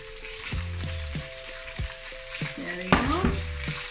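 Spaghetti tossed into a pan of sizzling bacon for carbonara, a steady frying hiss under repeated scrapes and clacks of a utensil, with a louder clatter near the end and a brief spoken remark.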